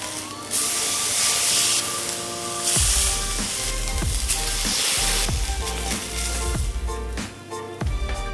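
A steak laid fat side down in a hot pan sizzles loudly and continuously, with bursts of crackling spatter and clattering knocks as the meat and pan are handled.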